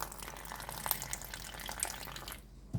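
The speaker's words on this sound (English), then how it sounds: "or just run your tap for a little bit" Water runs from a kitchen tap in a steady close hiss and splash that breaks off abruptly near the end, with no talking over it.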